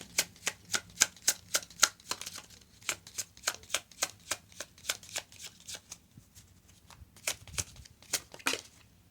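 Oracle cards riffled and shuffled in a steady run of crisp, close slaps, about two dozen quick strokes with a short pause near the end before a few more.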